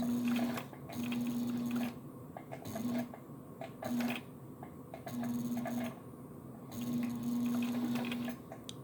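A sewing machine with a step-down pulley slowly stitches through leather and vinyl, giving a steady motor hum with repeated stitching bursts that start and stop in short runs, close and moderately loud.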